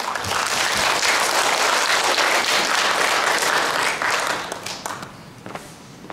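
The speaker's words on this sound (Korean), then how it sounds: "뜨거운 박수를 모시겠습니다." A large audience applauds warmly at the opening ceremony of a community sharing festival in Hongseong County, South Korea. The dense clapping stays loud and steady for about four seconds, then thins and fades.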